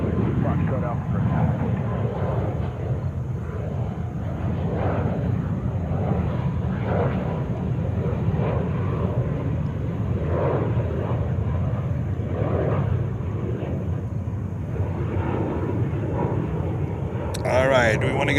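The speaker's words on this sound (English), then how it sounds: "we want to get ready for Qatar 777-300 in the One World livery, taking off right now" A Qatar Boeing 777-300 in oneworld livery takes off at JFK with a sustained, rumbling engine roar at a distance. A voice talks over it throughout.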